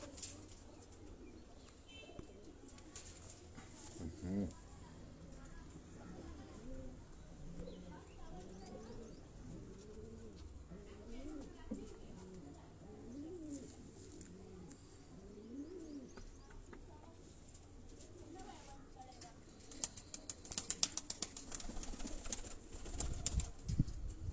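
Pigeons coo softly and steadily throughout, a low murmuring chorus with scattered chirps and occasional wing flutters, while people talk in the background.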